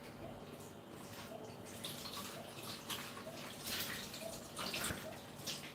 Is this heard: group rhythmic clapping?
no